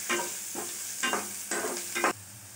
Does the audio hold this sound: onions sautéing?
yes